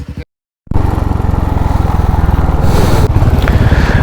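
Nine motorcycles idling and revving loudly and close by before a forest ride, a steady throbbing rumble after a brief silence.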